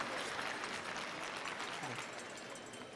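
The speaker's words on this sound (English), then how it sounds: "The crowd goes wild." Applause from the crowd at a men's world curling championship round-robin game between the Netherlands and Canada, a sustained wash of clapping heard from a distance that holds steady and fades slightly over three seconds.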